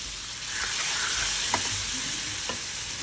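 Spiced tempering poured into cooked chickpeas for chana bhatura, giving a loud, steady sizzle that runs through the whole stretch with a few brief pops and no voices.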